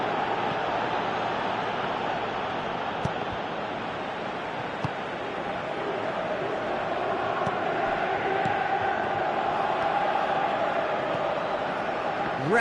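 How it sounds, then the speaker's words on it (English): A large stadium crowd in a Pro Evolution Soccer 2017 match roars with a steady broad wash of noise, swelling slightly now and then, with faint sharp pops over the continuous din. "Crowd appreciates good football all round there."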